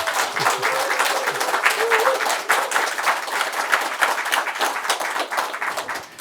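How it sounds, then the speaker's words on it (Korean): Steady applause from a large audience at a university alumni association gathering, dense clapping that holds for several seconds with a faint voice briefly audible beneath it. "박수 한번 보내주시기 바랍니다"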